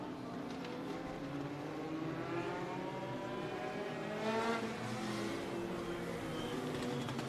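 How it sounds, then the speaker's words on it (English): A pack of thirteen legend race cars roars around a short oval track at Anderson Motor Speedway, engines droning and revving steadily together as the field bunches up through a turn, loud and continuous throughout. "We're going to get all 13 of these legend cars double stacked here as they're coming back down through turn 2"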